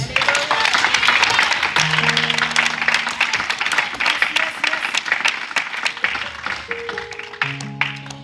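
A church congregation applauds, with loud continuous clapping, voices calling out beneath it and sustained keyboard notes entering toward the end.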